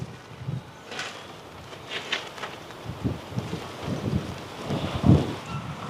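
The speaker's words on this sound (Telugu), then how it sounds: "చూడండి చాలా గాలి అయితే వస్తుంది." Strong wind gusting across a building rooftop where a kite is being flown, a steady broadband rush with irregular louder buffets and a sharp gust near the end, no voices.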